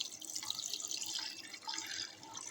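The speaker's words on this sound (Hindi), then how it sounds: "ये पानी डाल दिया हमने, पानी डल गया है" Water pours into a cooking pot holding garlic and ginger for a beef paye recipe, a close, continuous splashing and gurgling stream with no talk.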